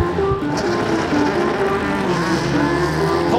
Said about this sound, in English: Ignition on. Okay, engine on, engine on.